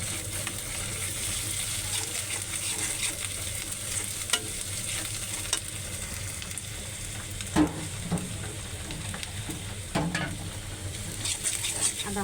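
Onions fried until reddish with ginger paste added, for a Bangladeshi chicken bhuna: a steady close sizzle runs throughout, with occasional spoon stirs and scrapes against the pan.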